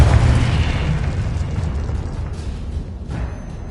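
A Confringo spell explosion bursts in a Harry Potter game on PS5, a loud, close boom at the start that rumbles and fades over a few seconds, with no talking.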